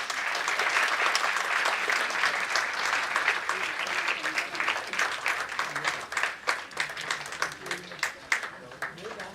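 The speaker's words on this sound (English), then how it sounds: "Can we give a big round of applause?" An audience at a chartered accountants' day celebration bursts into sustained applause, the dense clapping loud and continuous at first, then thinning into scattered separate claps toward the end.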